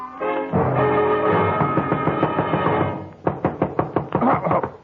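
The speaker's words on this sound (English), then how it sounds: "somebody was knocking on my door" Several sharp knocks rap on a door in an old-time radio detective drama, a quick uneven run of raps following a sustained musical passage, close and clear.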